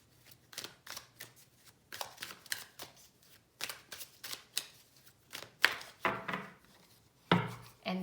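Tarot cards shuffled and drawn close up, a series of soft papery riffles and slaps in uneven bursts, with light rustling handling noise and a couple of firmer taps toward the end.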